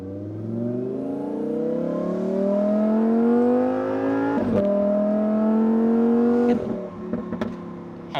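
A supercharged Lamborghini Huracan Spider in manual sport mode accelerates hard, its engine note and supercharger whine climbing through the gears with quick shift breaks, loud and close with no talk.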